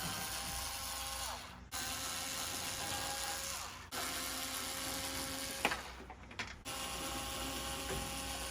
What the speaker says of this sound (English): Now I'm going to remove the screws from the fascia panel.